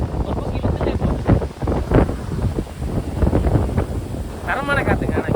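Heavy wind roar buffets the microphone while riding a BMW S1000 RR superbike, a loud, gusting rush that swells and dips, with faint voices mixed in under it.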